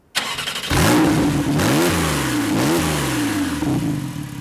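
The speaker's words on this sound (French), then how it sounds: "c'est l'échappement actif qui amplifie la bande son" A Porsche 911 Carrera S engine fires up and revs twice hard through its active exhaust, loud and close, then settles into a throbbing idle.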